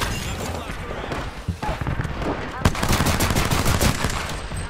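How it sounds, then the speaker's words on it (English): Weapon fire in an Apex Legends match comes as a loud sustained barrage of rapid shots and impacts, growing denser and more intense in the second half, with no clear speech. "Whoa, I just got lasered. Yeah, charge rifle."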